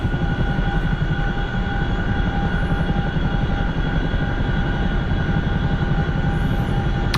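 An Apache helicopter in a flight simulator game, its engine and rotor forming a loud, continuous, even drone with steady whine tones, heard alone without talk.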